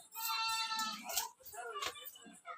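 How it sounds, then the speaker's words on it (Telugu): Goats bleat in a village goat pen during a Yellamma festival in Anantharam, Bhongir, with several wavering, nasal cries overlapping close by and faint voices mixed in. "మేకల దొడ్డి."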